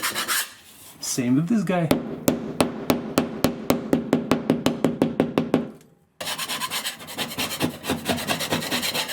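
A putty knife scrapes damaged drywall in a rapid run of sharp, evenly spaced rasping strokes, close and loud, pausing briefly before a denser burst of scraping; a voice speaks briefly at the start.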